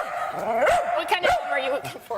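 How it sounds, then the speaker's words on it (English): A dog barks and yips repeatedly at its own image on a television screen during a live TV news interview, close and fairly loud, with people talking over it throughout. "he's barking because he can see himself, and sometimes it's frightening"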